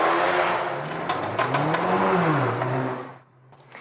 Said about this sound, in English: It is, of course, the revving and popping of an exhaust.